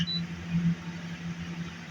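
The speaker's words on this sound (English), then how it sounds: "you heard the fridge beep there" A portable fridge gives a short high electronic beep once at startup, then only a faint steady hum remains in a quiet room.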